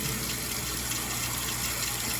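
Water running from a kitchen tap into a cooking pot, a steady, full gushing stream heard close and unbroken throughout.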